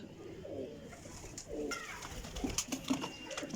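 Sialkoti pigeons cooing close by, several soft throaty coos in uneven succession, with faint chirps and light rustling around them.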